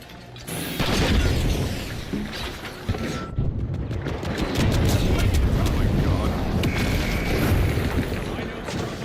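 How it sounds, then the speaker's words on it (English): In the shooter game The Finals, a frag grenade goes off with a heavy booming blast that rumbles on amid gunfire and clattering debris, while a player's voice calls out over the noise. "Throwing a frag!"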